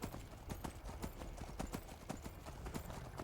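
Horse hooves clip-clop in a steady, brisk rhythm in the fantasy game Skyrim. The crisp, close hoofbeats repeat throughout over a soft ambient background.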